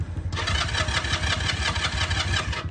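A used carbureted motorcycle engine catches almost at once and settles into a loud, steady, throbbing run close by, with no voices.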